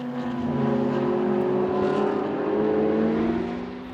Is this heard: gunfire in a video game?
no